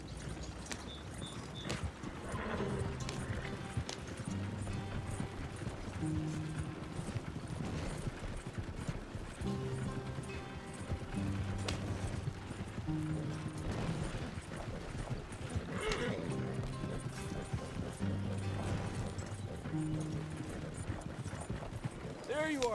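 A horse galloping in Red Dead Redemption 2, rhythmic hoofbeats pounding steadily throughout at a moderate level, with game music and occasional voices over it.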